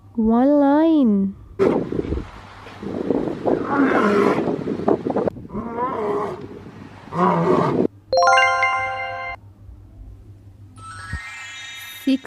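A lion roars in bursts of rough, growling calls amid a cartoonish mix that opens with a wavering tonal sound and closes with chiming, bell-like tones, all fairly loud and close.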